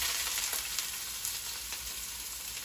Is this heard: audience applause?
no